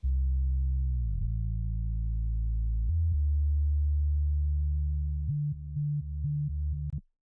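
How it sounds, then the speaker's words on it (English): Sub bass synth tone programmed in FL Studio, a deep pure sine-like hum sustained loud and alone, sliding in pitch at the start and stepping between a few held notes before cutting off. "And the sub bass."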